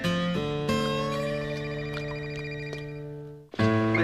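A telephone rings loudly and steadily with a sustained electronic tone, cut off abruptly near the end before a brief new burst begins.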